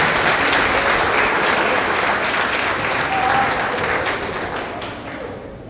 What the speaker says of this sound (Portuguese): Professor Silvio, por gentileza, vamos recebê-lo com uma salva de palmas.